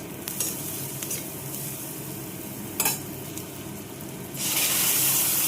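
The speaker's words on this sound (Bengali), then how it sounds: "ভালো করে এটাকে কষতে হবে" Ground spice paste with a little turmeric sizzles in a pan while being stirred. A steady frying hiss carries a few sharp scraping strokes and swells louder near the end.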